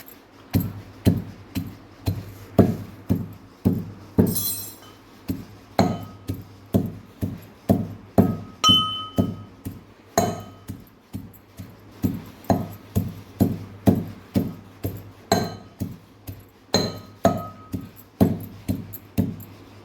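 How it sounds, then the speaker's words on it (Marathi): Garlic and chili powder pounded by hand in a mortar for peanut chutney, a steady run of sharp, close thuds repeating about twice a second for the whole stretch, with no talk. "भरपूर सारा लसण टाकत आहे आणि मी हे आता कुटून घेते"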